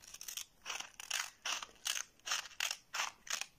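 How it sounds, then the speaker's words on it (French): A child cuts paper with scissors, turning the sheet to change direction while following a line; nine or ten crisp snips come in a steady rhythm, close and clear, with no talking. "l'enfant doit tourner la feuille et changer de direction ses ciseaux"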